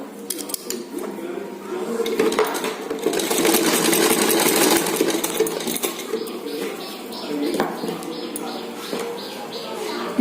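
A sewing machine stitches the lining of a double katori blouse in a few short bursts and one longer run, a rapid rattling whir under a voice speaking Hindi.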